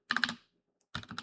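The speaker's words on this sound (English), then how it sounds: "Let's try typing in" Quick keystrokes on a computer keyboard come in two short clusters separated by a brief pause, close and crisp with no talking.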